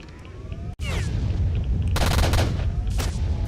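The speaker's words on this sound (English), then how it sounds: "Someone's got a Gauss rifle." Gauss rifle gunfire in the video game Stalker: Shadow of Chernobyl, a sharp crack followed by loud crackling electric bursts and booms over dense game ambience.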